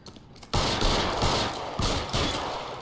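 Gunfire in the video game LA Noire: a few sharp, loud shots in quick succession, close and punchy, with a brief quiet lead-in before the first blast.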